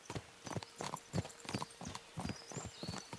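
Horse hooves clip-clop in a steady rhythmic trot in Kingdom Come Deliverance II, close and moderately loud, with a possible brief whinny mixed in.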